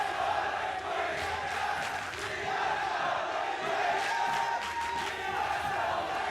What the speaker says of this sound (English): they're smart enough to coordinate chants alternating so they make sure their team gets in there